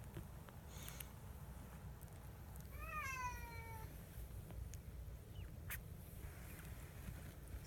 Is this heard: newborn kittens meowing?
yes